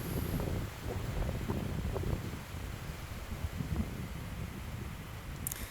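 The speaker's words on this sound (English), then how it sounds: "It was quite windy that morning" Gusty wind buffets the microphone on a wooded hiking path through an arch of trees, a steady low rumble with rustling that swells and eases throughout, no talking.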